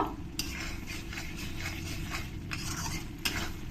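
Mutton curry masala, cooked down until the oil separates, is stirred in a pan with a spoon that scrapes and clinks in repeated strokes over a soft sizzle, with no talking.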